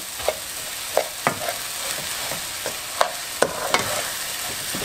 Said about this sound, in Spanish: Vamos a mezclar bien el arroz, el ajo y la cebolla.